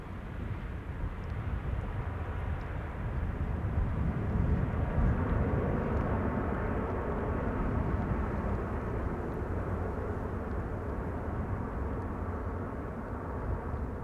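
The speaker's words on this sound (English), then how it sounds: "Qatar flight 275 arriving from Doha. That's an A350." A Qatar Airways A350 airliner arriving at Amsterdam Schiphol makes a loud, steady low jet roar that swells slightly midway and holds without pause.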